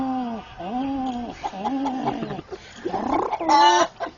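A man mimics a pigeon with his voice, making a run of warbling, wavering coos that rise and fall close up, ending on a brief higher call.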